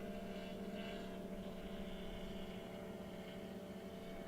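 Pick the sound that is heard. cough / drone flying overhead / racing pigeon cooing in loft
drone flying overhead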